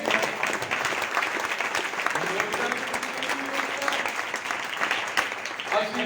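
A church congregation at a meeting in Pandori clapping together, a steady, dense round of applause lasting the whole stretch, with a few voices faintly mixed in.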